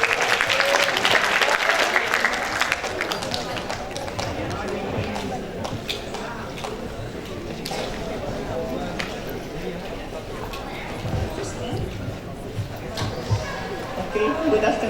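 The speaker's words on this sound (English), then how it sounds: "Please give applause to Ms." An audience claps for a speaker at a closing address during a university guest lecture, a dense, sustained round of applause that stays loud for the whole stretch.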